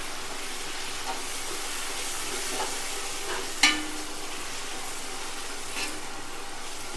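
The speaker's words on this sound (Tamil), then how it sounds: "மல்லி புதினா சேர்த்து ஒரு நிமிஷம் இதை நல்லா ஃபுல்லாக வதக்கிட்டோம்" Mint and coriander leaves sautéing in a pot for chicken biryani give a steady soft sizzle with faint stirring scrapes and one sharper clink of the spoon against the pot partway through.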